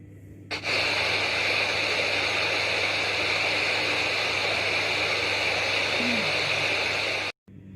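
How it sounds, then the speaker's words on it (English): Rushing waterfall with water plunging fast from a height, a steady, loud broadband roar that holds unbroken for about seven seconds before cutting off abruptly. "So let us listen to the sound of a rushing waterfall."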